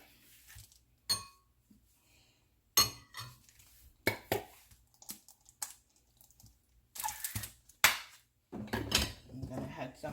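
A spoon clatters and scrapes in a bowl while mayonnaise is mixed into deviled egg filling for Jamaican-style deviled eggs, with sharp clinks in irregular bursts separated by quiet pauses, close by.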